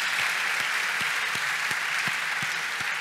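An audience applauds at a university's academic-year inauguration ceremony, a dense, even wash of clapping that holds steady for the whole stretch without voices rising above it.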